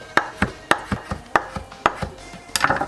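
A knife chopping wheat dough on a board, with about eight sharp, close taps at an uneven, fairly quick rhythm and no talking.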